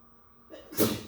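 A single short sneeze bursts out near the end after a quiet moment, close and fairly loud.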